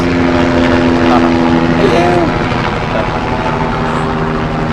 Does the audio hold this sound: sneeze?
no